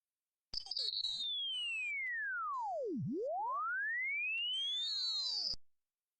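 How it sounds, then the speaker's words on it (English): Synthetic whistling tones sweep downward from high to low, meet in a dip, then sweep back up, with scattered bleeps and harmonic chirps around them, loud and continuous. "I also made an option that from which I can convert waves form to frequency form"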